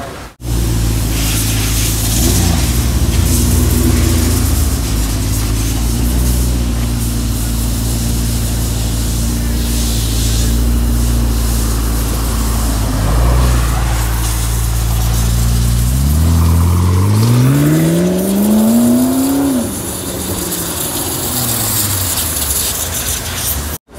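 A loud Ferrari 599 GTB engine idles with a steady roar, then revs up sharply in a rising whine and settles back, close by, with no talking.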